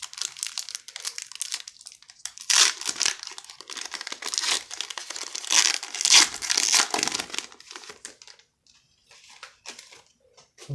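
A 2021 Donruss Racing NASCAR card pack wrapper torn open up close, with bursts of crinkling and ripping that come and go and then fade toward the end.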